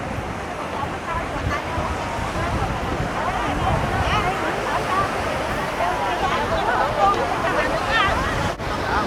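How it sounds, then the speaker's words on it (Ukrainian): Big sea waves surge and wash onto the shore of a Vietnamese fishing village, a loud continuous roar of surf with a busy murmur of voices mixed in. "Але хвилі прям такі величезні."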